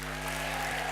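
Opening-night crowd at the Innovfest Unbound festival clapping together, a dense, steady wash of applause from a large audience, evenly loud throughout with no voices on top.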